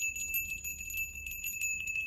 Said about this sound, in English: Now ring the bell to open the reading.